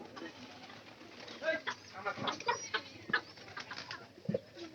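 Pigeon chicks coo softly in short, repeated bursts, fairly faint and close, while a person talks intermittently over them.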